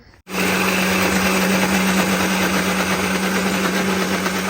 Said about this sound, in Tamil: மிக்சியில் போட்டு அரைக்க போகிறோம்.